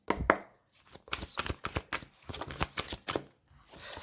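A deck of cards being riffled and cut by hand, a string of quick, crisp rippling bursts with short pauses between them, close and fairly loud, with no talking.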